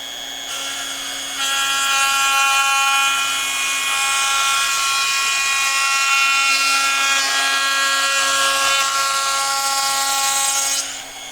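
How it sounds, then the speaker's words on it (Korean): A woodworking machine flattens the uneven face of a furniture workpiece, giving a steady high whine and a rough cutting hiss that start abruptly and hold for about ten seconds before stopping, with no talk. "이 울퉁불퉁한 이 면을 한번 일자로 만들어 보도록 할게요"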